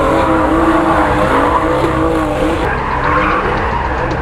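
A drifting car slides with loud, sustained tire squeal and a high-revving engine, the screech continuous and close for the whole stretch without any talk.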